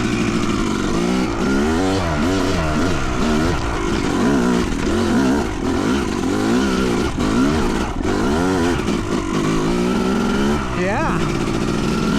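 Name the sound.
Yamaha YZ250 dirt bike climbing a hill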